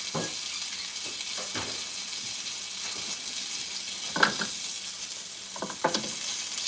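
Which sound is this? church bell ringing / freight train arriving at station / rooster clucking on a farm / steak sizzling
steak sizzling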